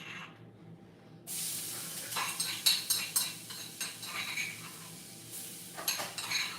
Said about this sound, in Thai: อันดับแรกต้องใส่อันนี้นะคะกระเทียม